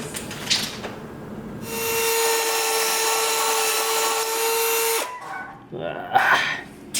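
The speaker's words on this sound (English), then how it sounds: "I'm having to use the battery drill as a router to try and make these holes big enough" A cordless drill, used like a router to enlarge holes, whines steadily for a few seconds as it bores into wood, with brief clattering and scraping before and after.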